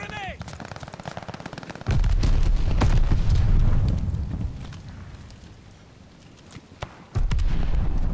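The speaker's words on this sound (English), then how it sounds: "Throwing grenade." A thrown grenade bursts into a heavy boom in Call of Duty: Vanguard hardcore deathmatch, with surrounding gunfire and a deep rumbling blast that fades, then another loud burst, with voices heard in the mix.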